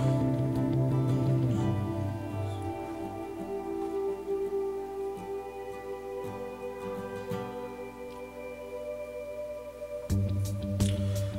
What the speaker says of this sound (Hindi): ऑडियो चलाकर दिखा देता हूँ किस तरीके का सॉन्ग क्वालिटी है